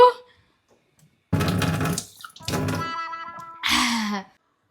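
Water runs out in a few short gushing bursts, separated by quiet gaps.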